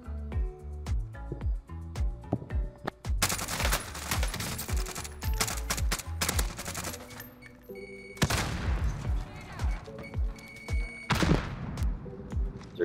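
Rapid bursts of automatic gunfire from the Warzone battle royale video game, loud and dense, with overlapping volleys and single shots continuing throughout.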